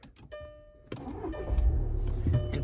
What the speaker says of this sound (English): And now when we start the car